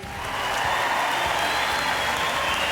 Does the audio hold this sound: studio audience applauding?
yes